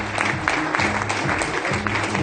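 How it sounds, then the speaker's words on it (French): Audience applause at a ceremony honouring ambassadors, a dense steady clapping from a crowd lasting the whole span, fairly loud and close, with no speech over it. "applaudissez les ambassadeurs encore une fois"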